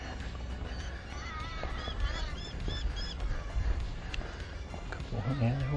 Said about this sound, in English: There's a whole bunch of crows over there somewhere.